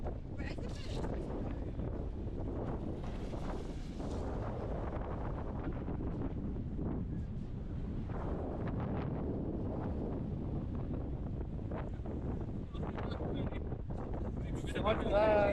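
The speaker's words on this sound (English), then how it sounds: "Dude, it's so windy." Strong wind buffeting the microphone during a rough boat ride off Zakynthos, Greece, a constant loud rumble and roar with water noise, while people talk over it.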